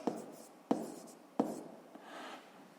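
Pen writing on paper during a math lesson, soft close scratching strokes with a few sharp taps, quiet and alone.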